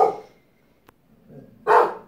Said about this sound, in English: And my goodness, my dogs have a lot to say.